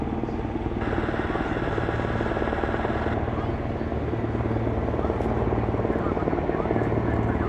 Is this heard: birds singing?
no